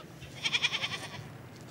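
Goats bleating in a desert: a short run of five or six quick, wavering bleats in close succession, moderately loud against a faint background.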